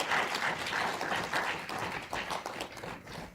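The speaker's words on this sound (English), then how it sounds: "I think we need another round of applause for the three presenters of modern law" A parliamentary audience applauds three presenters at a Pan-African Parliament session. Dense, continuous clapping from many hands fills the hall at moderate volume, then thins slightly toward the end.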